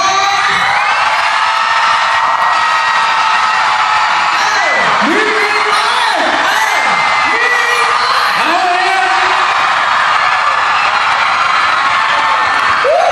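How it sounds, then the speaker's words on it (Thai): A live audience at a Thai comedy and music stage show screams and cheers loudly and continuously, with rising whoops and shrieks layered over a dense crowd roar. "ขอเสียงนะครับกรี๊ดดังๆ"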